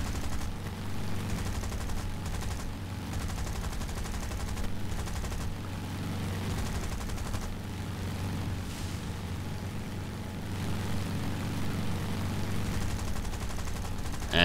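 Rapid machine-gun bursts from 7.7 mm aircraft guns in a War Thunder air battle, a continuous rattling stream over a steady engine drone, with occasional short pauses between volleys.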